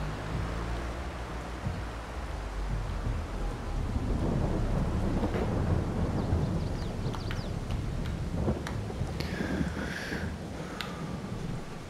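Rain and rolling thunder in the video game Farming Simulator 22, a loud, steady downpour hiss under deep low rumbles, with a few sharper high crackles late on.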